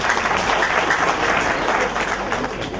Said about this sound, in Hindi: आप लोग कृपया तालियों से उनका उत्साहवर्धन करें